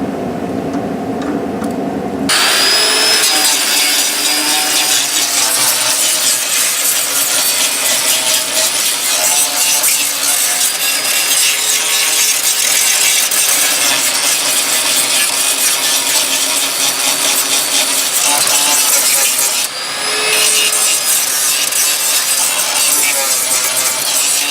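A power tool grinds steadily and loudly on the damaged area of a Jeep Grand Cherokee rear hatch, running almost continuously with one short pause near the start and a brief dip near the end.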